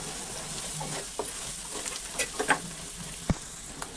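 Drumstick chicken curry is stirred in a hot pan after turmeric is added, with a steady close sizzle and occasional scraping taps of the spoon and no talk.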